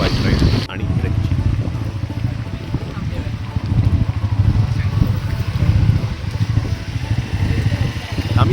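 A motorcycle rides toward Ratangad fort in the Sahyadri hills with a close, steady engine drone and wind rush that run for the whole stretch. No words are clearly spoken.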